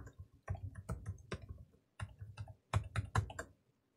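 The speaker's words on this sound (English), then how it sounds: "So I'll type in mine right here." A password typed on a computer keyboard up close, with quick clusters of crisp key clicks separated by short pauses, in a quiet room.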